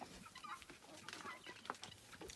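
Roosters cluck softly in a farm enclosure, a few brief faint calls over quiet background noise.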